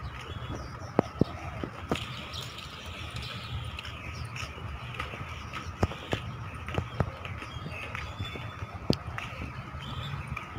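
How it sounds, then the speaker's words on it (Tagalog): Many birds chirp and call across a seaside park in Tuen Mun, Hong Kong, with scattered sharp notes over a steady outdoor background hum. "Ang daming mga ibon. Naririnig yung mga huni nila."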